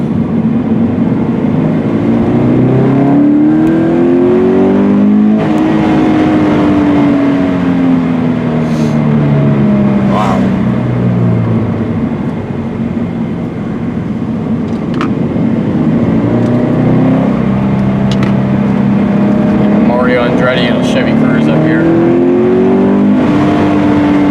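A Subaru BRZ engine is run out in second gear, loud and close, revs climbing in repeated sweeps, then dropping as the throttle is lifted, over a constant drone of road noise, with no talk.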